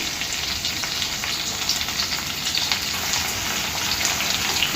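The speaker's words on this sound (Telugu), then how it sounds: "వీటిని 1 నిమిషం పాటు వేయించుకుందాము" A ridge gourd mixture fries in a pan, giving a steady, close, even sizzle with light crackling throughout and no voices.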